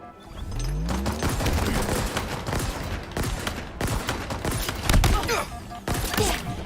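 Rapid gunfire from the shooter video game Halo Infinite fills the stretch with dense, loud bursts and repeated shots, with a few heavier thumps and brief gaps between volleys.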